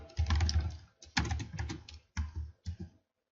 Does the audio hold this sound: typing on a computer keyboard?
yes